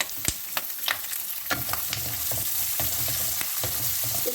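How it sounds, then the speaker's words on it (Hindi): Chopped onion frying with roasted peanuts in a pan sizzles steadily up close, punctuated by sharp scraping clicks as a spoon stirs the mixture. "अब मैं इसमें प्याज डालने लगी हूँ।"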